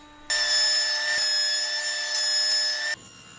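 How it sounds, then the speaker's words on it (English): Wood pieces are fed through a power planer being thinned from half an inch to three-eighths, giving a steady, loud, high-pitched machine whine for about three seconds that starts and stops abruptly. "Now all the pieces get planed down from 1/2 inch to 3/8 of an inch thick."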